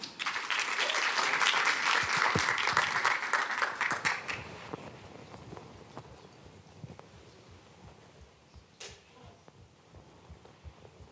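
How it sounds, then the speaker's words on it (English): Audience applause at a live MIT startup accelerator event, loud dense clapping that swells for several seconds then thins into scattered fading claps. "Please give a round of applause to Kinsu Capital"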